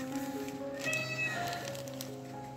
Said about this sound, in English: my cat is meow meow meow meow meow, like always, nothing new.